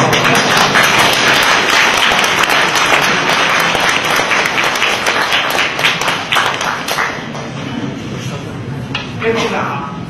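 A lecture audience bursts into loud, sustained clapping that fades gradually over several seconds, with a voice speaking over the tail end.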